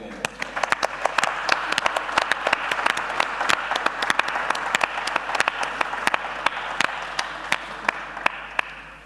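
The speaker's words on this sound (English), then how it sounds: "maybe a big applause for all the teams involved, for all the amazing work they've been putting in." An audience at a school sustainability design-thinking challenge applauds the participating teams, with many hands clapping in a rapid, even patter. It is sustained and fairly loud throughout, with individual sharp claps standing out.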